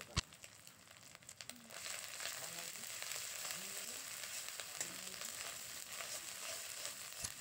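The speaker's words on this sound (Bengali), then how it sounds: "আদা বাটাটা দিয়ে খুব ভালো করে ভেজে নেব" Ginger and garlic paste frying in a pan gives a steady, moderately quiet sizzle that runs the whole time, with a sharp clack near the start and a few soft stirring scrapes.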